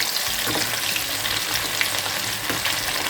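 Crispy chicken kebab pieces fry in a hot pan, a dense, even sizzle and crackle heard close by throughout, with no one speaking.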